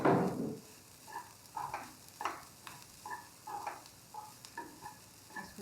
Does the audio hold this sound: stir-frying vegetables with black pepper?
yes